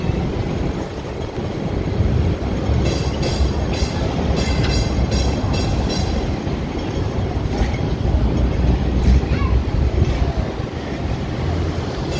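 A Hong Kong tram runs between Admiralty and North Point with a continuous rumbling roll, wheel rattle and clicking bursts, and a brief squeal of wheels on track.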